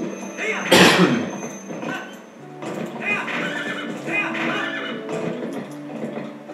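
A horse in Zelda: Twilight Princess jumps a fence, letting out a loud whinny followed by clip-clopping hooves and game sounds, with a voice talking over part of it.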